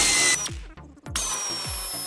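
A power tool tightens a fastener on a Jeep JK, a loud close whine in several short bursts with brief gaps, pitch dropping as each burst winds down and the tool bites.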